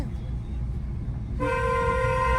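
A long, steady car horn blares from about halfway through, loud and close, over low rumbling engine and road noise in city traffic on a flyover.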